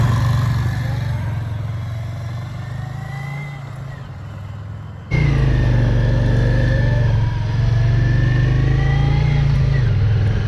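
A Yamaha XV535 Virago motorcycle idles with a low, steady engine rumble, then revs up sharply and pulls away loudly for a brake test, its engine note holding strong and close.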